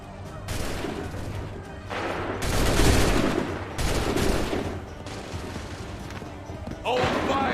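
Scattered musket volleys crack out in a battle in Assassin's Creed 3, several loud bursts rising and falling over roughly eight seconds amid game ambience, with voices shouting in between.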